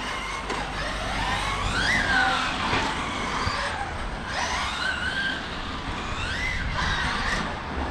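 Motor of a Monster-X 4x4 RC car, a 510 mm FG Porsche Rothmans body on 8S power, whining as the throttle is pushed through a turn, a high rising and falling buzz with tire scrub over a rough outdoor background.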